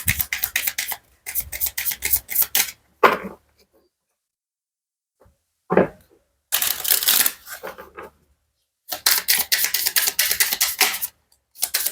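Tarot cards are shuffled and laid out in several bursts of riffling and snapping, close and fairly loud, separated by short pauses and a few soft slaps.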